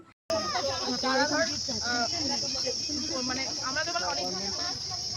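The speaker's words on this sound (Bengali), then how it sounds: "শুনুন চারদিকে কি সুন্দর ঝিঝি পোকা ডাকছে" Crickets chirp on Nandan Pahar hill in the evening, a continuous shrill, high chirring that fills the whole scene while people talk over it nearby.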